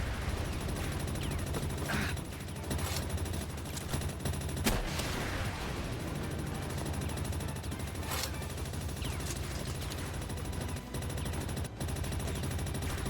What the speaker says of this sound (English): Burning a lot of rockets here